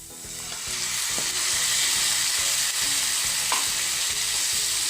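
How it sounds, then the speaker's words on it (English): Mutton frying in a pan for a homemade curry, giving a loud, continuous close-up sizzle with a dense crackling hiss and a few soft knocks from stirring. "Now we shall add the mutton"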